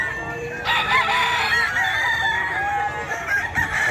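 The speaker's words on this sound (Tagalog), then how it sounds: "Oh, mga manok na Boss Russell." Several roosters crow loudly and repeatedly at the Bocaue pet market, overlapping one another amid busy background noise and clucking.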